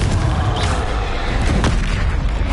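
A Confringo fire spell explodes in the Hogwarts Legacy video game, a loud, dense, continuous roaring blast with a deep booming rumble throughout.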